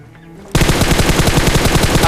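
Rapid automatic gunfire from a video game shooter, bursting in loud and sudden after a short quiet moment and continuing as a dense, steady rattle of shots.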